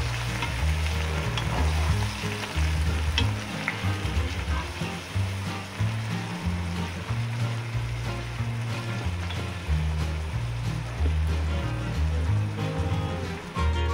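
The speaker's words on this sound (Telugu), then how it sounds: "ఆ ప్రాన్స్ అందులో వేసి బాగా కలపండి." Marinated prawns stirred into an onion-tomato masala sizzling in oil for a Nellore-style prawn biryani, with a steady close frying hiss and scraping stirs throughout, over a low rhythmic background pulse.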